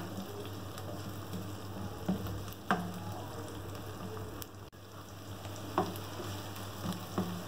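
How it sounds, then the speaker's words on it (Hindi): Onions sauté in a pan with a steady, close sizzling hiss, occasional brief clicks and spoon taps punctuating it, with no talking throughout. "प्याज डाल देंगे और उसको फ्राई करेंगे। प्याज का हम हल्का सा सौते करेंगे बस।"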